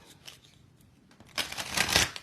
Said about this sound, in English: I'm going to go ahead and also shuffle